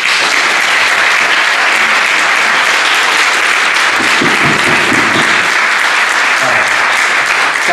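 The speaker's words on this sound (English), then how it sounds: "You can clap and close." Loud, continuous audience applause at a 2012 city council district candidate forum, a dense wash of clapping from a crowd filling the room for several seconds.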